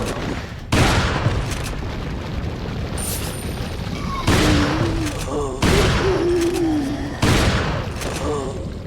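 A shotgun fires in the 2005 video game Resident Evil 4, with four loud booming blasts at regular intervals over the game's ambient sound and enemy voices.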